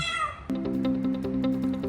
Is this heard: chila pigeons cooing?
no